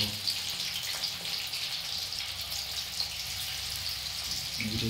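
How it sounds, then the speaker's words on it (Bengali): Prawns for a restaurant-style prawn chilli fry in a pan with a steady, close sizzling hiss that runs unbroken from start to finish. "এগুলো দিয়ে ভালো করে মা ভেজে নিচ্ছে।"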